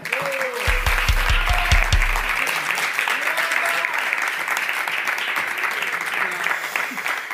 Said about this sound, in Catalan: Un aplaudiment per ella